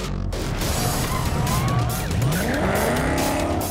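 Ford Mustang stunt car fitted with a MagnaFlow exhaust, driving hard with a loud, close engine roar and tire squeals sweeping through the sound, continuous and dense throughout.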